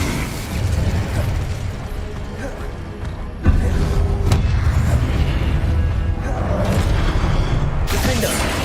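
A fire spell erupts in Hogwarts Legacy, a sustained roaring blast with a sharp onset partway through, over continuous dense game combat noise and effects.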